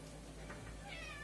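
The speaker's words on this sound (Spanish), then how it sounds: "Es que el gato ya me anda pidiendo." A cat meows in a kitchen while canned tuna in spicy chile sauce is being prepared, a short faint call sitting over a steady low background hum.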